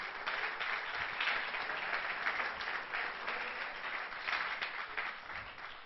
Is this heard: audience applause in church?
yes